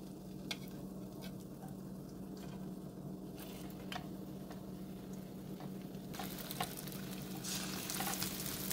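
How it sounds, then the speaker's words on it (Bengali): Fish fillets frying in hot oil in a pan, a steady dense sizzle with scattered crackles and pops that thickens and grows brighter toward the end, no voices. "এবারে প্যানে দিয়ে দিচ্ছি তেল তেলটা গরম হয়ে গেছে এবারে ফিশগুলো দিয়ে দিচ্ছি"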